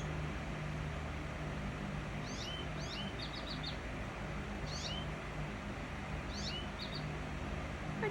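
A bird calls at a backyard sunflower seed feeder, giving short chirping phrases in several bursts over steady background noise from the outdoor setting, with no talking.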